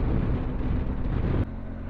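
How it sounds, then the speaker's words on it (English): Steady broadband wind roar buffeting a motorcycle rider's helmet with the visor down, loud and continuous, dropping slightly in level near the end. "Wow, wind."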